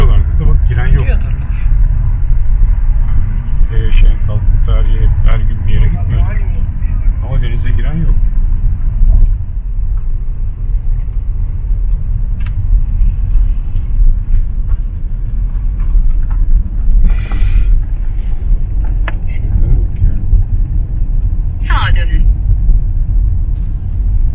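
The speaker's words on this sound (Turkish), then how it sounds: "Daha çok araba var." Steady traffic rumble from cars on a busy road in Greece runs throughout, with vehicles passing close by, under frequent conversation between people nearby.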